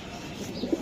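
Female racing pigeon giving a brief, soft low coo up close, faint and steady over quiet room noise.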